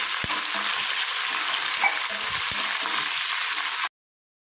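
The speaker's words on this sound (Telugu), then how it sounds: "మినప్పప్పు, ఆవాలు, కరివేపాకు, ఎండుమిర్చి, జీలకర్ర వేసుకొని తాలింపు పెట్టేసుకుంటున్నామండి పప్పు కోసం" Tempering spices for bottle gourd dal, with black gram dal, mustard seeds, curry leaves, dried red chillies and cumin, crackles and sizzles steadily in hot oil, close and loud, with a few soft stirring taps before it cuts off.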